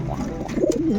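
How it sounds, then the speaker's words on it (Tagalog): Racing pigeons coo softly at a loft, a brief low warbling call close by, rising toward the end of the second. "Medyo mailap mga kalapatid si Kwan ngayon."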